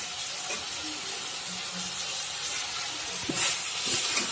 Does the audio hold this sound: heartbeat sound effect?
no